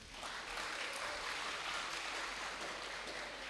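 Audience applause at a university lecture and MoU signing ceremony, a steady dense wash of clapping that holds at an even level throughout with no voices over it.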